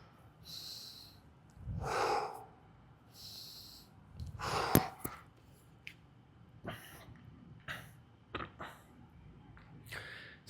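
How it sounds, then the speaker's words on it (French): Audible breaths in and out during dumbbell goblet squats, a handful of separate inhales and exhales spaced across the stretch with a few sharper snort-like puffs, close to the mic and fairly clear over a quiet background. "pour la respiration, lorsque je vais descendre, je vais inspirer"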